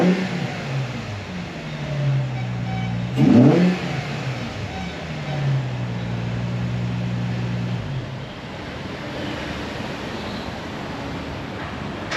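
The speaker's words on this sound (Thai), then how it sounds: "มีรถสปอร์ตอีกหนึ่งรุ่นนะฮะ มานำเสนอ เป็นนิสสันแฟร์เรดี้นะครับ 350Z นะฮะ สีแดงครับผมคันนี้สีแดง" A red Nissan Fairlady 350Z sports car idles, then its engine revs in one loud, sharp burst and falls back to a steady idle, with a quieter rev rising and fading later on.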